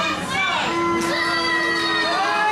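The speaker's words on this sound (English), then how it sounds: "listen to the boos coming from this capacity crowd at the Best of the West studio" A capacity crowd at the Best of the West wrestling studio jeers loudly and continuously, a dense roar of voices with whistles and shouts rising through it, heard alone and close.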